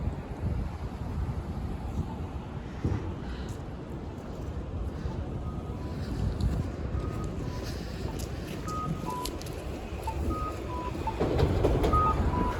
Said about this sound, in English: That beeping sound you'll hear would often be heard at busy intersections like this